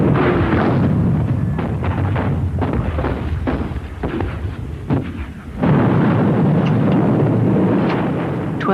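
World War I German artillery, some 1,200 guns bombarding an eight-mile stretch of the French front at Verdun: a continuous, loud, rumbling barrage of deep booms and blasts that briefly thins, then surges again, with no voices.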